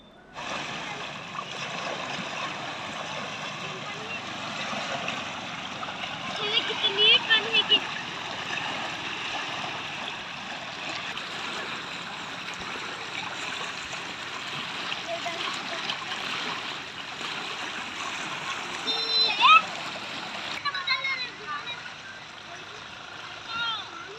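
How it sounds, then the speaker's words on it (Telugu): Floodwater rushes and churns in a steady, continuous roar, with occasional splashy surges and voices faintly heard over it. "ఈ వాటర్ యొక్క సౌండ్ విందామా?"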